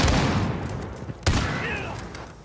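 Gunfire in Modern Warfare, two sharp close shots with a pause between, each followed by a booming echo that decays slowly, loud and with no talk.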